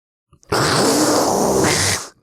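A single long, raspy inhale lasting about a second and a half, harsh and close, with nothing else around it.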